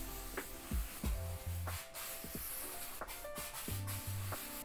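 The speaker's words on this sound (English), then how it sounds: "we can just go ahead and spray some of this stuff around" Atmosphere haze from an aerosol can sprayed indoors, a steady soft hiss running throughout at low level with no talk.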